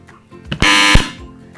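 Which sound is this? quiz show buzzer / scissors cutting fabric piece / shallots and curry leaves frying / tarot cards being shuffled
quiz show buzzer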